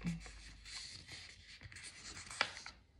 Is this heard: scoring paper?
yes